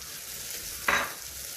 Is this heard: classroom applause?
no